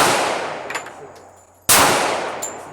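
M1911 pistol shot striking a wooden target outdoors: a sharp, loud broadband crack near the end, following an earlier decaying report and a faint metallic ping, with no talk.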